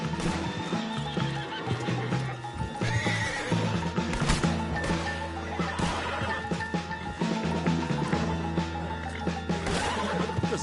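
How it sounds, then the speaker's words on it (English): A horse in a PS4 video game whinnies and its hooves clip-clop, set amid a dense, loud layer of game music and effects that runs steadily throughout. "Put Strauss on the back of John's horse"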